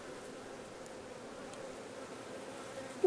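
Honey bees hum steadily around an open hive whose colony, left queenless, is raising emergency queen cells; the buzzing is close and continuous, with a brief louder knock at the end.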